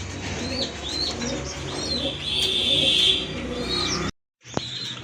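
A pair of pigeons, a Naptha male and a Jabla-type female, coo close by in repeated rolling calls mixed with sharp chirps, then fall briefly silent before a short sound resumes.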